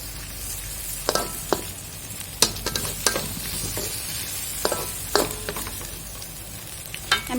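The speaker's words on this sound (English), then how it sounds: "I'm just going to stir them good." A creamy sambal tempoyak fettuccine sauce is stirred in a hot pan. A low sizzle runs under irregular, sharp scrapes and clacks of the utensil against the pan, with no voices.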